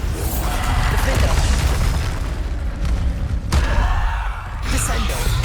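Bombarda explosion spells go off repeatedly in the Hogwarts Legacy video game, a dense roar of loud booms and bursts with a spoken voice cutting in over the barrage.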